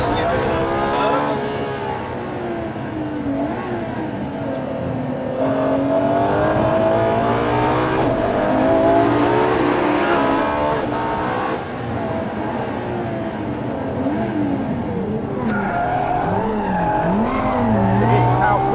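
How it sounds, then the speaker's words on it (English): A Ferrari LaFerrari pushed hard at its limit, the engine revving and howling through rising and falling gears, with tire noise as it corners, continuous and loud throughout. "So this is how friendly the Ferrari is on the limit."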